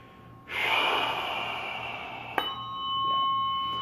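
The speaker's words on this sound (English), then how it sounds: "So I'm going to invite everyone to breathe." A single loud, airy inhalation swells and holds for a few seconds during a guided breathing exercise at an energy-healing session, with a faint chime-like ring partway through and a steady tonal hum beneath.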